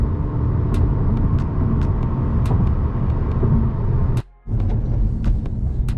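Honda Accord 2.0T running a Stage 3 tune accelerating, a steady loud engine drone under load with faint ticks, cutting out abruptly for a moment near the end before resuming.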